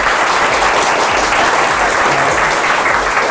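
Loud, dense audience applause at a hypnosis stage show, the crowd clapping to cast a vote, a continuous roar of hands at constant volume throughout.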